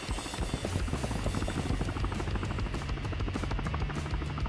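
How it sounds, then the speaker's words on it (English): Helicopter rotor drone and engine hum from Call of Duty Mobile battle royale play, a steady loud whir with low thumping throughout, a burning helicopter carrying a teammate. "Oh no, our teammate's in a flaming helicopter."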